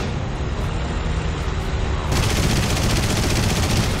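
Anti-aircraft flak guns in War Thunder firing a dense, continuous barrage of rapid shots that grows louder and heavier partway through, with no voices.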